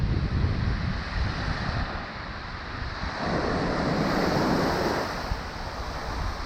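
Ocean waves break and wash onto a remote beach at Stumps Pass, a loud, continuous roar of surf with swelling surges and wind rumble on the microphone.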